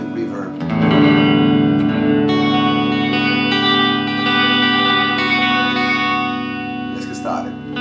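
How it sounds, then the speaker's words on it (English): An electric guitar played through an Eventide Space reverb pedal rings out in loud sustained chords, with a lingering reverberant wash and a heavy effected tone. "you hear a little bit of reverb."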